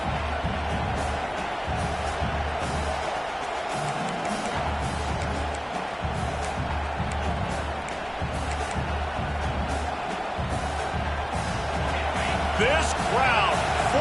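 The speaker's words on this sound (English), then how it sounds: "This crowd, full throat, splitting the eardrums" A football stadium crowd at an Iowa game roars in a continuous loud wash of cheering, with thuds and slaps mixed in and announcer-style talk running over the noise.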